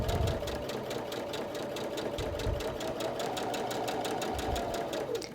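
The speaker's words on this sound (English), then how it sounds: "I'm just going to line the edge up right to my marked line and sew down either side" A sewing machine stitching quilt fabric, a fast, steady mechanical whir with rapid regular needle clicks running continuously at close range, a few low thumps mixed in.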